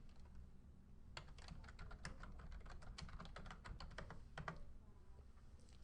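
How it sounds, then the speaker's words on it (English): Computer keyboard typing, a quick run of light, crisp key taps close by, fairly faint over a steady low hum, with no talking. "So I'll go ahead and type that in."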